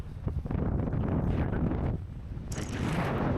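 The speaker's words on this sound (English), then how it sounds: "so windy." Strong wind gusts roar across the microphone on a slopestyle ski slope, a loud, steady rumble that surges again near the end, with no talk.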